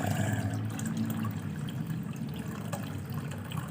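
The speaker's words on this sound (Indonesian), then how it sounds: "saya menggunakan sebagian dari cangkang telur ini saya masukkan, dan tentu saja airnya yang akan saya masukkan" Water poured steadily into a container holding eggshells while making liquid organic fertilizer at home, a continuous close splashing and trickling with no talk.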